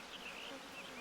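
Bloodflies buzz in Final Fantasy XVI, a faint continuous insect whine with wavering pitch, alone and close.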